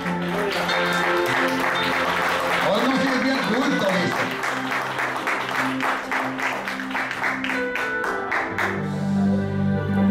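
Congregation clapping during a church service, steady rhythmic palm claps throughout, mixed with a voice speaking over them and some tonal background sound.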